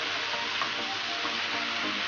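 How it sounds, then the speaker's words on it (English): Nasi goreng with coriander, cumin and crumbs fries in a pan and is stirred, producing a steady, dense sizzle with faint scraping underneath throughout. "Mix them, all of them together, very well."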